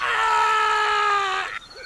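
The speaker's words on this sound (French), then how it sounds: "Un pirate descendit à la cabine et on entendit bientôt un hurlement" Sustained, high tonal scream of a pirate in a French audiobook of Peter Pan, loud and close, holding one long pitch for about a second and a half before cutting off abruptly.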